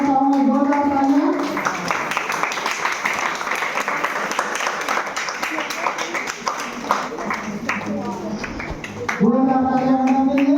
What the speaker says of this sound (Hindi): जोरदार तालियां मैडम के लिए।